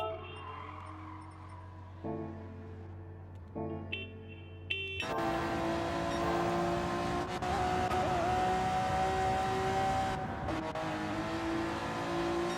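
A classic Honda Civic in Gran Turismo 7 during a Type R Challenge race, a quiet idling hum that breaks into loud, sustained engine revving with brief tire squeal, heard alone.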